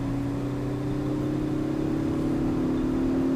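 A hot hatch engine, one of a Ford Focus ST, Mazdaspeed 3 or Volkswagen GTI, revs steadily under hard acceleration, a continuous close droning whir that rises slightly in pitch with no one talking.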